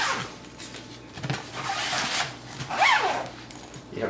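Zipper being pulled on a Battlefoam PACK 1540 XL miniature foam case, a few short scratchy zipping strokes close by, with one brighter rasping pull near the end and quiet room tone between.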